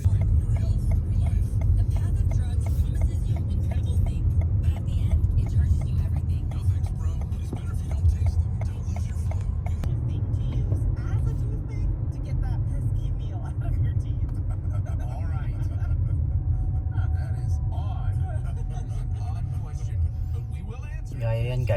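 An electric mid-size SUV drives on battery power, giving a steady low road rumble and cabin hum while a person talks over it throughout.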